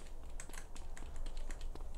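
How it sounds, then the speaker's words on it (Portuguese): A new computer keyboard rattles with quick, irregular keystrokes during a DayZ gaming session. The clicks are close, crisp and a little noisy, with no talk over them. "E como o teclado é novo, ele faz muito barulho também"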